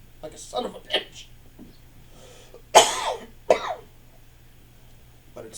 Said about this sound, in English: You cough like a son of a bitch